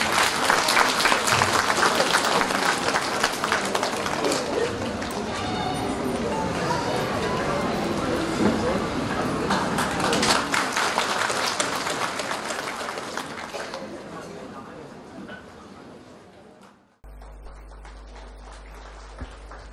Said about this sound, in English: Let's all give a round of applause and welcome